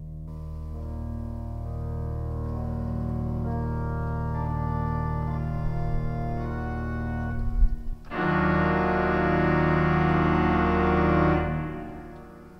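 Pipe organ sustaining held chords, played with the swell box opened, so the sound grows fuller. After a brief break near the end it returns brighter and louder with richer upper tones, then stops. No voices.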